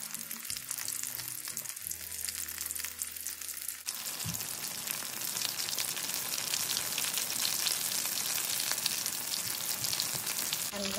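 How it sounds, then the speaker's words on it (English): Potato, pea and cheese balls fry in hot sunflower oil, starting with clunks and handling noises before settling into a dense, steady crackling sizzle that grows louder and fills the rest of the clip, close up and alone. "Just going to fry until these are golden."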